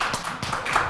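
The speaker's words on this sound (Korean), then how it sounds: "동의하시면 박수도 좀 치고 그래요" An audience at a lecture on constitutional reform claps briefly in agreement, a short burst of scattered hand claps, close and moderately loud.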